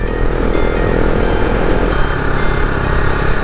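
Husqvarna Vitpilen 701 motorcycle being ridden, a steady loud engine drone with a constant rumble and hum, heavy wind noise blended in, no pauses or gear changes standing out.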